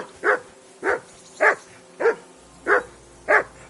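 Six steady, evenly spaced dog barks from the video game Kingdom Come Deliverance 2, fairly loud and close, with nothing else in the background.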